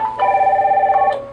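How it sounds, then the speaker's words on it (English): Smart IP wall pad, the AddPac AP-VWP100, ringing for an incoming call: a loud, close electronic tone with a rapid warbling pulse, holding steady for about a second before shifting pitch. "It's ringing."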